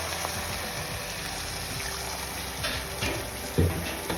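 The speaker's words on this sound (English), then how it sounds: "Now add little water." Water is poured into a pot of chicken dhansak, a soft steady trickle with a brief louder splash near the end.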